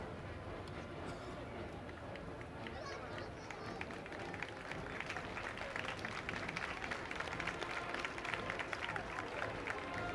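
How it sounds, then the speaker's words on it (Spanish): A crowd at a religious pilgrimage festival in Villa Hidalgo, Jalisco, gives dense sustained applause that swells slightly toward the end, faint and somewhat distant with voices mixed in. "Fuerte el aplauso para ella."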